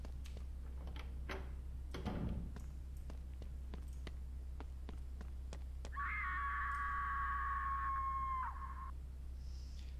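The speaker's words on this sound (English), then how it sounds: "Sounds like someone's screaming in the basement." A distant, steady wail rises for about two and a half seconds from the basement in The House, a PS1-style horror game, after a run of sharp ticks and a low constant hum.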